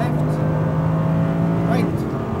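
An Audi R8 V10 RWD pulls hard around a racetrack at Speed Vegas, its engine holding a loud, steady drone from inside the cabin, with a brief voice of an instructor coaching over it.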